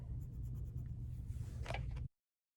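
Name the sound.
coloring a paper art project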